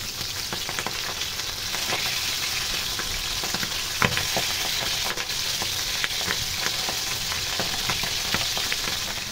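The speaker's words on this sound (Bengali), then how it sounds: "প্রতিটা মাছের এক পিঠ ভাজা হয়ে গেলে তারপর আমি উল্টে দিলাম।" Pabda fish fry in hot oil in a pan, a loud, dense, continuous sizzle with scattered pops and crackles spitting throughout, close up and with no voices.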